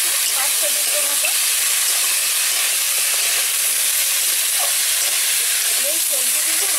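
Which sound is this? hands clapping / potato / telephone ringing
potato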